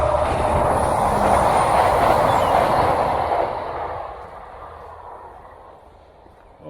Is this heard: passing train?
yes